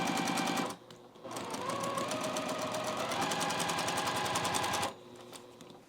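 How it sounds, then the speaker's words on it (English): A sewing machine stitching fabric for a bowl cozy: one long steady burst of fast rhythmic needle hammering that starts after a short pause and stops abruptly near the end, close and alone with no talk. "now I can sew around my piece, and I have that little extra, and I'm going to sew right to this stitch line."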